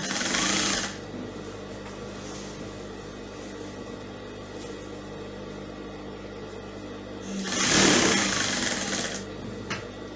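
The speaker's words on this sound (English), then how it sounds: "So I'm just going to stitch now." A sewing machine stitches a fabric sleeve with a steady, continuous mechanical whir, loud and close, swelling briefly near the start and again later, with no talking.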